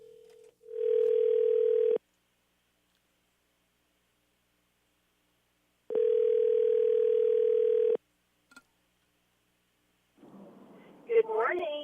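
A telephone line after a call is dialed plays two long, steady electronic tones separated by silence, followed by a faint click and then a voice on the line.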